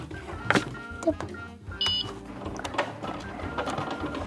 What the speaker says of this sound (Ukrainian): допоможе вам пральна машина